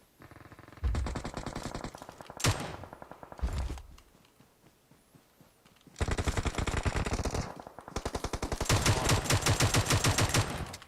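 Automatic gunfire in the video game PUBG Mobile comes in loud, rapid bursts of shots separated by short pauses, with the longest sustained volleys near the end.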